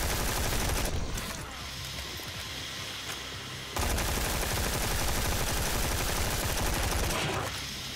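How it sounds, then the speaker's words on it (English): Heavy automatic gunfire blasts almost without pause in Sker Ritual, loud and dense, briefly dropping to a lighter rattle before the full barrage returns. "This gun ain't doing damage."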